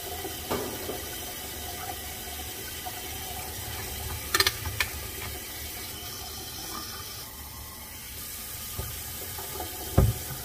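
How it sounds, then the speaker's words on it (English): Tap water runs steadily into a kettle and a pot, a constant close hiss with a few small clanks and a sharp knock near the end. "to fill both the kettle and the pot with water and both tap water"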